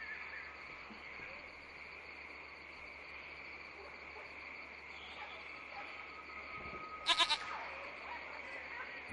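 A goat in the video game Lost Horizon lets out a short series of faint bleats over a steady ambient hum of crickets and low background tones.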